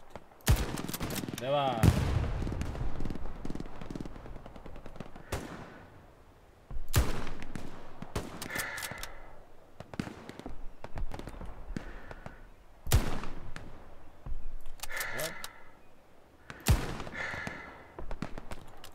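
Machine gun bursts in the World War II shooter game Hell Let Loose, with repeated loud rapid volleys at intervals, plus someone speaking briefly between them.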